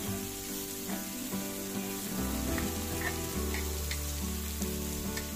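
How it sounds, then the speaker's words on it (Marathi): Prawns fry crisply in a pan in the Malvani style, giving a steady close sizzle with soft stirring and scraping under a continuous hum. "प्रत्येक बाजूक साधारण 2 मिनिटं व्यवस्थित फ्राय करून घ्यायचा"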